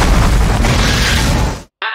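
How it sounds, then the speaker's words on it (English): Bomb explosion from the film The Fifth Element: a loud, dense blast rumbling with heavy low end for about a second and a half, cutting abruptly to silence before a brief burst of sound returns. "But Zorg set a bomb."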